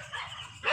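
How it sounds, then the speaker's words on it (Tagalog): At night a dog gives a single short bark at the end, fairly faint and somewhat distant, after a brief stretch of quiet outdoor background. "ingay ng aso."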